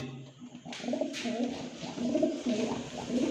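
A large pair of pigeons coos steadily up close, a continuous layered murmur of soft throaty calls with no talk over it.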